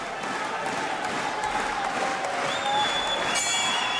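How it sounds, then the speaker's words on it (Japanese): Crowd in a boxing arena before a WBA super bantamweight title bout, a continuous rumble of clapping and stamping with cheers mixed in, steady and moderately loud, with a few brief tonal whistles near the end. "場内からはすでに足踏み手拍子が起きています。"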